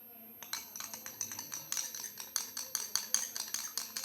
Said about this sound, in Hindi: आपने इसको अच्छी तरह फेंट लेना है, जितनी देर आप लोगों के बाजू नहीं थक जाते।